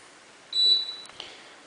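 An IH model GTA12 induction cooker beeps once when switched on, a single clear electronic tone about a third of a second long in a quiet room, followed by a faint click.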